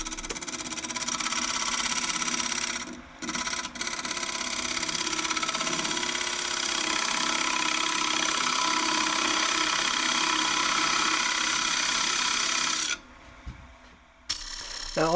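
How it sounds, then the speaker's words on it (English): A wood lathe spins a poplar blank while an Easywood mid-size rougher cuts a recess, giving a continuous loud hissing scrape with brief breaks where the tool lifts off, mostly steady and close. "Now this is the Easywood mid-size rougher, and probably the easiest way I've found to put a recess in."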